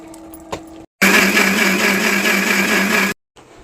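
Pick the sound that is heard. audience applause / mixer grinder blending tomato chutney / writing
mixer grinder blending tomato chutney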